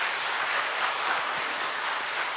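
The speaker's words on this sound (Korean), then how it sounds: "좋은 일이라면 박수 한번 칩시다 그래요." A church congregation applauding during a Sunday sermon, a dense, steady wash of many hands clapping together for a couple of seconds, full and fairly loud with no voices heard.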